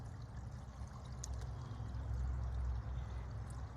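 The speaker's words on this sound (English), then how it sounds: "Big rock there just really improved that water flow." Water pours and flows steadily through a stream channel just cleared of a large blocking rock, a continuous low rushing wash holding at a moderate level throughout with no voices.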